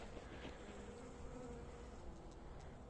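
Honeybees swarm around an opened hive frame held up to the sunlight, with the queen on it, making a steady, low, continuous buzz that stays fairly faint and even throughout, with no talking.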